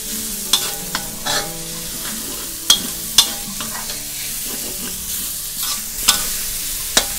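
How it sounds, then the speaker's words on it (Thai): Finely sliced shallots (Thai red onions) are stir-fried in a pan, giving a soft steady sizzle broken by sharp scraping taps of the spatula at irregular intervals, with no talk. "ใส่หอมแดงลงไปค่ะหอมแดงนี่ให้เราซอยๆให้ละเอียดสักนิดนึงนะคะผัดจนหอมสุกเลยค่ะ"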